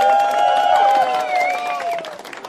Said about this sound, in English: Let's give Sir Yashala a round of applause